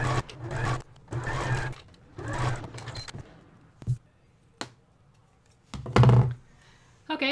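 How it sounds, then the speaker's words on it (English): A sewing machine runs three close bursts of stitching along a wristlet handle, followed by sparse clicks and thumps from handling the machine and fabric. "Now I'm going to put a matching stitch on the other side."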